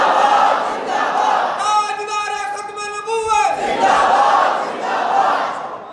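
A large crowd at a religious gathering roars a slogan in unison, with loud massed voices swelling, a sustained chanted phrase in the middle and more roaring around it.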